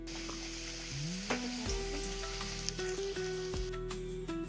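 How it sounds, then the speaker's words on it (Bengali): Green peas kochuri deep-frying one at a time in hot oil over a medium flame, giving a steady, close bubbling sizzle that runs throughout, with a low mechanical hum underneath and no speech. "তেলটা গরম হয়ে যাওয়ার পর ফ্লেমটা মিডিয়াম রাখতে হবে এবং এক এক করে কচুরিগুলোকে ভেজে নিতে হবে"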